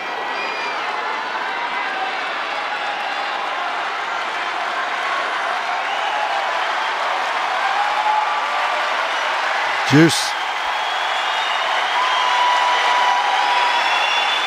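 A tennis crowd at the 2008 US Open semifinal between Murray and Nadal applauds a rally, sustained clapping and crowd noise under commentary, with a brief vocal exclamation near the middle.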